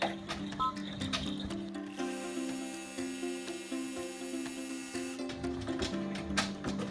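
An embroidery machine stitches the quilting background on a fabric garden flag, a steady close mechanical whirring and clicking with a fast repeating rhythm that keeps running throughout, with no talk over it.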